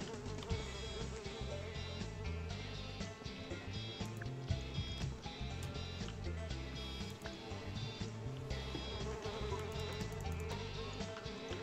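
Flies buzz continuously and faintly around a spot where someone is crouching, a steady insect drone running throughout over quiet background noise.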